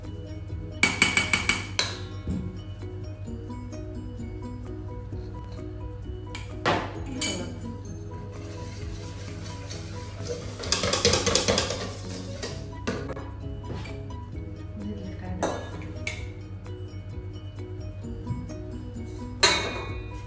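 A whisk or spoon clinks against a bowl while flan batter of eggs, sugar and cornstarch is mixed, with sharp clattering bursts in short intervals between quieter scraping and a low steady background hum.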